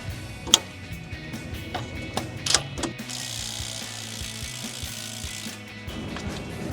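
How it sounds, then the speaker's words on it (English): A ratchet wrench clicks while removing the upper strut mount bolt, with camber bolts fitted, on a 2012 Mustang, using 18mm and 15mm sockets; sharp clicks, then a steady run of fast pawl ticks, close and clear. "we're going to need an 18mm and a 15 to take off a bolt"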